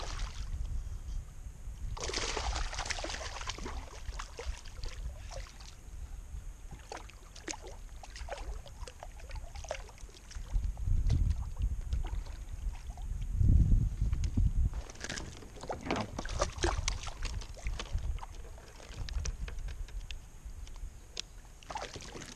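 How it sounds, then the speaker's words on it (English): Kayak paddle strokes on the water while bass fishing in Maine, soft splashes and drips recurring through a quiet outdoor scene, with a few louder sloshes near the middle. "Paddle my way out of here."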